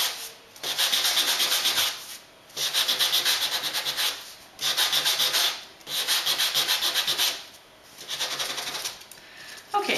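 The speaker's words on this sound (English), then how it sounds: "Okay, so my pieces are sanded." Paper cardstock flower layers being sanded by hand in close, scratchy rubbing strokes, five bursts of steady scraping separated by short pauses, with no talking.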